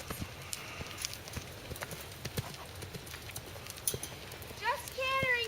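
Horse cantering in a round pen, rhythmic hoofbeats thudding in steady repeating strides at close range, with a brief voice near the end.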